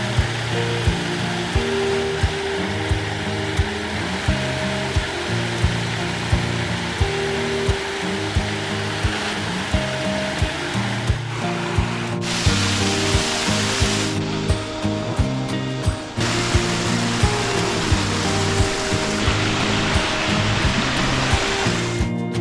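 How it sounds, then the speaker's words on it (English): Man-made waterfalls in a landscaped garden at an old Florida roadside attraction pour in a steady, loud rushing roar that continues unbroken, with no voices. "starting with the beautiful man-made waterfalls as centerpieces of the well-appointed landscape"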